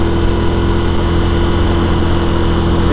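A loud, steady engine rumble runs throughout, deep and continuous with a constant low drone, like a Scrambler motorcycle idling close by with a new, heavy exhaust.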